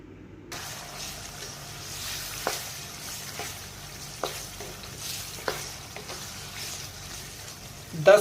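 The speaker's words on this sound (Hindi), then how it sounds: "दस से 15 मिनट के लिए हमने हाई फ्लेम के ऊपर कीमे को और प्याज को और लहसुन को भून लिया" Minced meat with onion and garlic frying in a pan over high flame, a soft steady sizzle punctuated by several sharp stirring scrapes close by.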